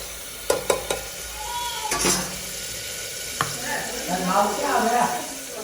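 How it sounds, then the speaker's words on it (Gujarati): Onions and tomatoes are stirred in a sizzling pan for a green chickpea curry, with a few sharp spoon knocks against the pan over a soft frying hiss, close by, with some voice underneath. "હવે જોઈ શકો છો તમે થોડુંક હલાવી લઈએ"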